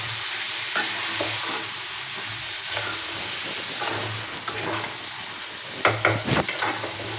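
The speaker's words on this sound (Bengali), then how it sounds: "মাংসগুলো আমি ভালোভাবে নেড়ে চেড়ে কষিয়ে নিচ্ছি" Duck meat with spices is stirred and fried in a pan, giving a continuous close sizzle with occasional spoon scrapes and a cluster of sharper clatters near the end.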